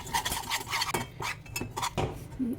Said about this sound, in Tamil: இதில் வந்து பெருங்காயம் வெந்தயம் உப்பு மூணு போட்டிருக்கேன் இது மூணும் கலந்துடுறேன்